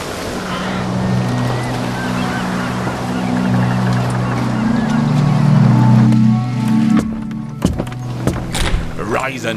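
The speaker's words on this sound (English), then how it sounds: "Hear them gulls? Means we're close to shore." Seagulls call near the shore in the video game Divinity Original Sin, heard over a steady ship-like drone and lapping water, with scattered sharp knocks and clatter toward the end.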